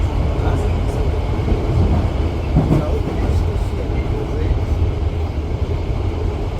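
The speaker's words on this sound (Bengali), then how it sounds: "এটি পিকাডিলি লাইনের মেট্রো" A London Underground Piccadilly line train rumbles loudly and steadily from inside the carriage, a constant low roar with rattling, and muffled voices beneath.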